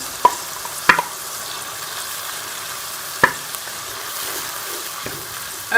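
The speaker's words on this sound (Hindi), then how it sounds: "अब ये मैं ब्राउन किए हुए प्याज शामिल कर लूँगी।" Browned onions are stirred into a frying kofta gravy. A few sharp spoon knocks against the pot ring out over a soft, steady sizzle.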